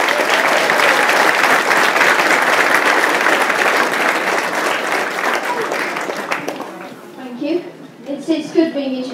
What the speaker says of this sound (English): So I think we best give him a mega round of applause.